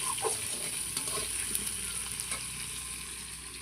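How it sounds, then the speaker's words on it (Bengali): Potatoes frying in a pan of hot oil, a steady close sizzle with occasional stirring scrapes throughout, no voices. "আগে আলুটাকে ভালো করে ভেজে নেবো লাল লাল করে"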